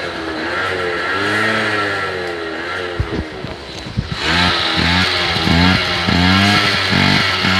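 A freshly restored Honda Julio 50cc two-stroke scooter engine buzzes loudly up close, rising and falling through repeated throttle blips with a raspy, high-pitched whine, briefly sputtering near idle before revving hard again.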